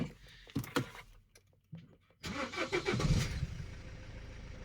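A used car engine starting on a sales lot, a high-mileage car around 400,000. There is a close cranking rattle, a brief pause, then the engine catches and settles into a steady idle.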